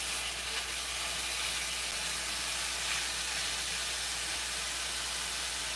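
A steak cooking in a pan fills the air with a continuous soft sizzle and hiss, even and unbroken, heard close with no talking.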